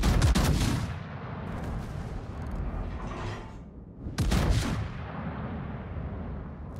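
Main guns of the Tier 10 Japanese battleship Bungo fire in World of Warships: two huge, deep booming salvos about four seconds apart, each trailing a long rumbling decay.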